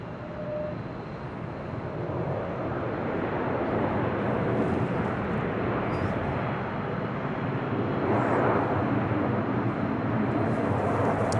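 Airliner departing a runway at LAX, heard from a high hotel rooftop: a steady, broad jet roar that holds across the whole stretch and swells slightly toward the end, with no talk.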